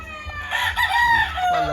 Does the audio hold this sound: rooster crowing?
yes